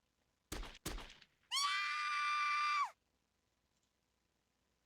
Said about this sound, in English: Then a woman's scream.